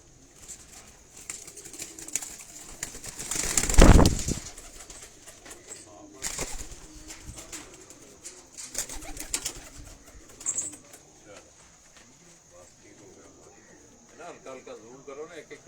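Pigeons on a rooftop in Chak Shahzad, with soft intermittent cooing and a burst of wing flapping near the middle, heard under a voice talking throughout.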